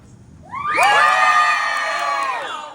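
A group of children in a theatre audience cheer and shout loudly on cue, a sudden burst of high, overlapping voices that swells and then holds steady for about two seconds before easing off.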